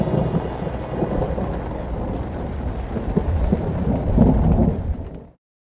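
Heavy rain pours during a severe thunderstorm outside a turkey hunting blind, with deep rolling thunder building under a constant wash of rain until the sound cuts off abruptly.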